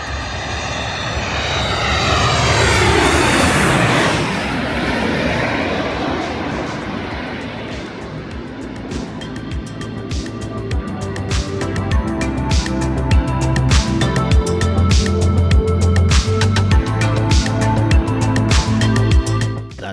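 Aircraft at Skiathos Airport in Greece, a loud jet engine roar swelling and sweeping close by on the short island runway, then a sustained broadband rumble that carries on steadily.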